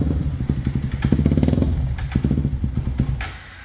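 A Honda CB 300 motorcycle bored out to 450cc starts up and runs with a loud, lumpy, pulsing idle that stutters irregularly, recorded close by before it fades.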